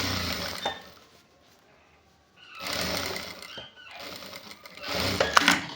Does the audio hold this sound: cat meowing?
no